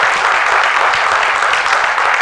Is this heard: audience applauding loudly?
yes